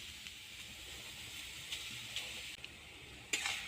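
A paste of poppy seed, onion and green chilli goes into sajne (drumstick) flowers and potatoes frying in a pan. It gives a faint, steady sizzle with a few soft stirring clicks and scrapes.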